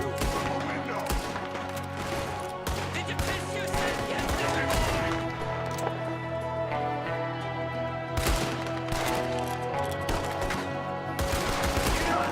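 Gunfire in the Red Dead Redemption video game rings out as scattered sharp shots and short volleys over a steady droning background, moderately loud, with a few heavier cracks near the middle and end and occasional talking.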